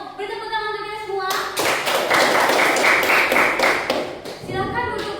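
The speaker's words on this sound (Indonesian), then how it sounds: "beri tepuk tangan untuk kita semua." A classroom of students breaks into sustained applause, a dense patter of clapping hands that swells, holds for a few seconds and then tapers, with a teacher's voice speaking before and after.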